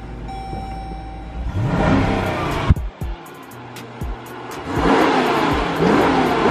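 A 2020 Jeep Cherokee Trailhawk engine revs up loudly and close by, then drops back and climbs in a second long rev, with faint beeps showing at the start.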